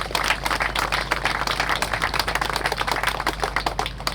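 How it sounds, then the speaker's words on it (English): An outdoor crowd at a park's official opening claps in dense, sustained applause, a loud steady patter that holds throughout with no voices over it. "Can you give them a big round of applause"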